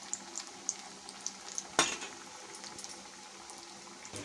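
Leftover roti snacks fry in hot oil on a medium flame, giving a steady close sizzle with scattered small pops and one sharp clatter partway through.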